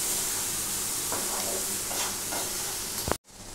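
Pumpkin halwa being stirred in a pan over low gas: a steady close sizzle and hiss with soft scraping strokes, cut off abruptly near the end.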